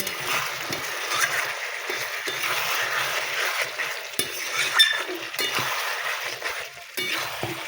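Chicken stir-fried in a pan over a wood-fired stove, a steady close sizzle with scraping and stirring clatter of a utensil against the pan throughout, a few sharper knocks breaking the texture.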